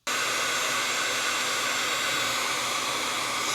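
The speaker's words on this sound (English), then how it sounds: "we'll heat up that heat shrink and get those nicely melted around those wires" A heat gun blows hot air over heat shrink tubing around wires. It makes a steady, loud, close rushing roar that starts abruptly and holds evenly throughout, with no talking.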